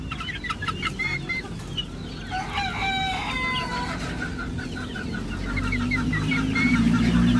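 Chicks and chickens at a poultry farm cluck and chirp continuously, with bright peeping calls and a short crow-like call in the middle over a steady farmyard hum, nearby and moderately loud.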